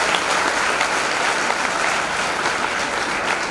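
Loud, dense applause from an audience at a public stage event in India, steady and continuous throughout with no talk over it.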